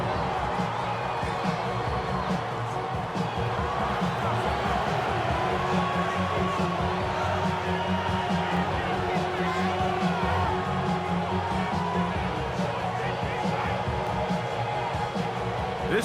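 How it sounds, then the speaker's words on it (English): A packed football stadium crowd at an NFL wild card game between the Chargers and Patriots roars as a steady, dense wall of cheering and whooping that carries on without a break. "This crowd into it now."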